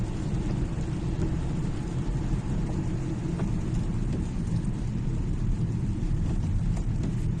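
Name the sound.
busy road traffic of cars and trucks heard while driving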